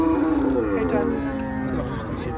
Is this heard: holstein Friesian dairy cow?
yes